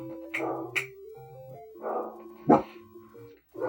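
Mishka, a big bear-like dog, lets out several loud, close barks and yips in irregular bursts, each with a whiny, tonal edge, heard over a quiet indoor background with no talking.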